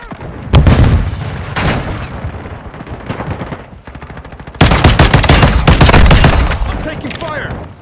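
Gunfire in the video game Call of Duty: Modern Warfare II: a few loud shots, then a dense sustained burst of rapid automatic fire, close and heavy.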